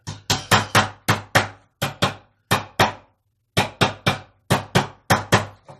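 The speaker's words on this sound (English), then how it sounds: "Beating the staples further into the back of the sign." A small hammer strikes staples deeper into the back of a sign, loud close sharp blows in quick bursts of three or four with short pauses between.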